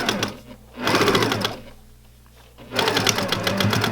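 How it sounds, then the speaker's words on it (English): A sewing machine stitches fabric right beside a strip of elastic, running in two loud, steady bursts of rapid mechanical whirring separated by a quieter pause, close and alone without speech. "I'm not stitching through the elastic. I'm stitching next to the elastic."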